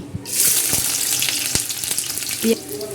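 Chopped onion hits hot oil in a wok, setting off a loud, steady sizzle that carries the whole time. Sharp spits and crackles stand out above the sizzle, and no one speaks.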